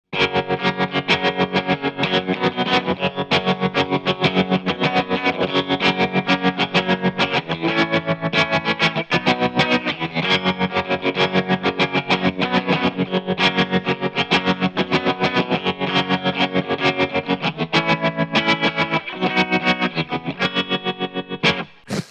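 Electric guitar, a Jaguar, played continuously through effects pedals, shimmering and distorted with a chorus-like wash, loud and dense with no voices.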